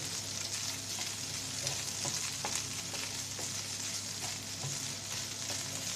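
Fish frying over low heat in a pan gives a steady, close sizzle with a few faint scrapes of stirring, running on without a break and with no voices.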